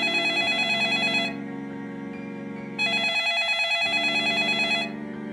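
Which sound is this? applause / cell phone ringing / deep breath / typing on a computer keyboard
cell phone ringing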